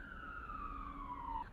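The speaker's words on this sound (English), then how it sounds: "I have no idea when that siren could first be heard." An emergency vehicle siren wails outside an open window, one long tone gliding steadily downward, moderately loud and continuous with no voices.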